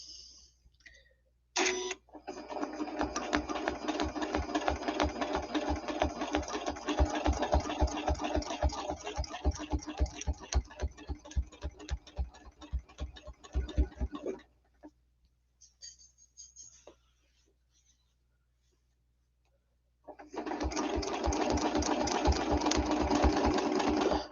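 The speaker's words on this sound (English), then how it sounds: "needle down, needle up, and bring up our bobbin thread" A sewing machine stitches quilt blocks in long close runs of rapid rhythmic needle clatter, stopping for a quiet pause with faint handling, then starting again in a steady run to the end.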